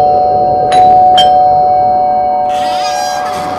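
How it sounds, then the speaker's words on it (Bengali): An electric calling bell at the front door of a bungalow gives two quick chimes close together, followed by a brighter ringing tone over a steady hum in a quiet night setting. "তার নিচে কলিং বেল।"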